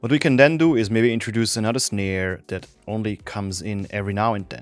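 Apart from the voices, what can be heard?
No distinct noise like a dog, phone or traffic.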